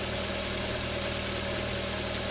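Car engine idling steadily after an oil change and radiator replacement, a low constant hum with faint vibration, moderately quiet and alone with no talk.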